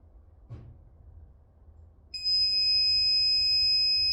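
A single soft thump, then a loud, steady high-pitched electronic beep from a heat press starts and holds continuously without a break.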